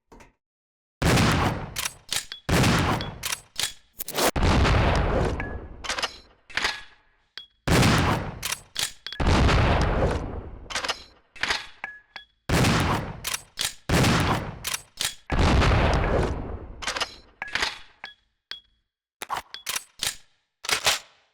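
A hunting gun fires repeatedly in Resident Evil Zero, loud sharp blasts in uneven bursts with ringing decays and short silent gaps between volleys, mechanical clicks between some shots.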